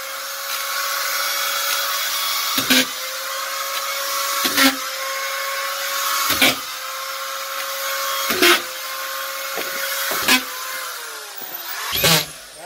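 A screw gun drives screws through sheetrock into studs, its motor whining steadily with a sharp thud or clunk as each screw seats, repeating roughly every two seconds, close and loud.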